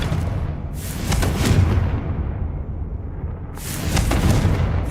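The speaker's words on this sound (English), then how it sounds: "Confringo." Confringo spell blasts in the Hogwarts Legacy video game, two heavy booming explosions about three seconds apart, each rumbling and fading, loud with no talk.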